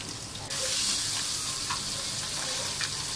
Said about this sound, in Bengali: কড়াইতে তেল গরম করে নিয়ে তার ভিতরে মাছগুলো ছেড়ে দিয়ে ভেজে নিয়েছি